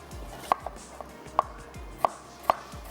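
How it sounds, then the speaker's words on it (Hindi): A knife slices onions on a board in sharp, evenly spaced taps about once every half second, close and crisp against a quiet background. "जो प्याज है उसको हम स्लाइस कर लेते हैं।"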